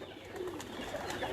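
Pigeons on a rooftop at a farm house in Chak Shahzad, Islamabad, giving a soft, brief cooing and faint fluttering in a quiet setting.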